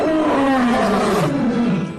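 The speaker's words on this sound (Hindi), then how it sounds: "अचानक सन्नाटे को चीरती हुई जंगल से एक भयानक दहाड़ गूंज उठती है।" A cartoon lion roars from the jungle: a single long, loud, growling roar that slides downward in pitch over about two seconds, close and unaccompanied by speech.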